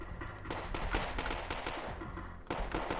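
Dense, continuous gunfire and explosions from battle in the Wargame Airland Battle video game, rapid overlapping bursts with a deep rumble, steady and fairly loud for the whole stretch with no voices.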